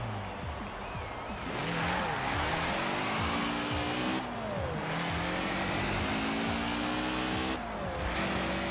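Volkswagen Golf GTI with a single center exhaust in Forza Horizon 4 rally driving, engine revving hard and rising through repeated gear shifts, with tire noise, loud and continuous.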